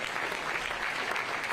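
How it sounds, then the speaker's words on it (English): An audience breaks into applause at an official press event for a Super Bowl halftime show, a dense, even wash of many hands clapping that fills the whole short moment without pause. "Round of applause"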